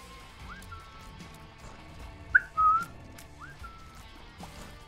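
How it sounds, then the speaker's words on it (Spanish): Short whistled tones from The Binding of Isaac: Repentance, two clear rising chirps and a sharper pair of whistle notes in the middle, set over a busy low game soundtrack. "El silbidito."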